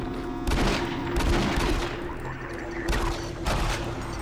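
Rapid bursts of gunfire from the video game Doom 3, loud volleys of shots firing in repeated clusters over a dense, booming game soundscape with no talking.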